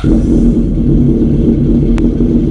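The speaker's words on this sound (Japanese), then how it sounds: "それではですね、エンジン始動いきたいと思います" A Honda CBX550F motorcycle with a chrome collector exhaust idles with a low, steady, throbbing rumble close by, running evenly with a brief high click partway through.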